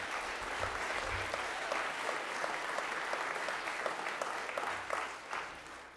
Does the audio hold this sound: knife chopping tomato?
no